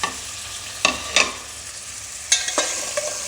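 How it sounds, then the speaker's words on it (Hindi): Meat being added and stirred into a pan of frying bhindi gosht, a soft steady sizzle broken by a few sharp spoon clatters and scrapes, near and with no speech. "अब मैं इसमें ये जो गोश्त है ये मैं इसमें शामिल कर दूँगी इस तरीके से"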